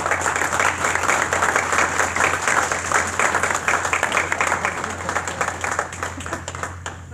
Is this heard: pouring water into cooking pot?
no